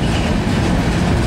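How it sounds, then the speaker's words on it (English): A Norfolk Southern manifest freight train pulled by Dash 9 and AC44C6M locomotives rolls uphill near Gaffney. The dense, loud rumble of wheels and cars passes close by. "About missed this train."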